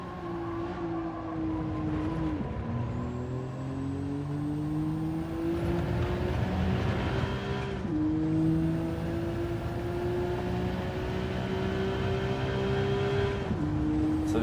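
Race car engines in Gran Turismo 7 rev hard and continuously, with rising and falling pitch sweeps as they shift, loud and steady throughout with no talk.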